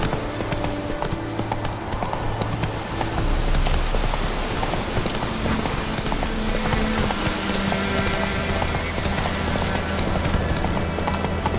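Horse hooves clip-clop in a quick, steady galloping rhythm in the video game Witcher 3, mixed with a rain-like patter and a low ambient drone throughout.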